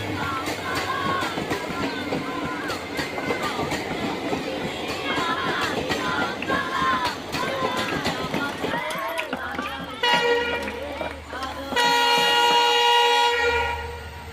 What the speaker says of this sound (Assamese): ৰেলখনৰ উকি শুনিয়েই